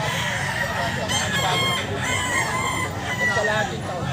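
Sweater-breed gamefowl rooster crowing repeatedly at close range, loud and continuous across the whole stretch, with a few clucks and faint voices in the background.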